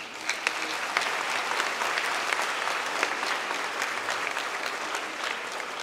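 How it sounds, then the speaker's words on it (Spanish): A congregation at a Sunday Catholic Mass applauds the music group, a sustained, even round of clapping from many people lasting several seconds, moderately loud and unbroken by speech. "Un aplauso para el conjunto."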